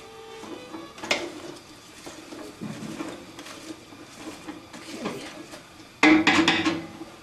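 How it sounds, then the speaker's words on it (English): Baccala with minced garlic is stirred in a pan: scattered scrapes and light clinks of a utensil against the pan, a few sharper knocks, and a louder clatter near the end, close by. "now I'm going to stir it."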